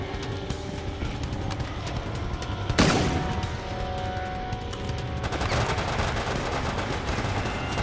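Gunfire in the video game Resident Evil: Operation Raccoon City, a steady crackle of automatic weapon shots with a sharp loud burst near the three-second mark, continuing densely under game music with no voices.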